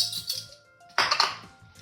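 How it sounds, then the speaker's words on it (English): A metal tablespoon clinks against dishes in a home kitchen while cookie dough ingredients are measured. A few light taps come first, then a brighter cluster of clatter midway, all close by and fairly quiet. "We're gonna get out another tablespoon because that one's got liquid in it."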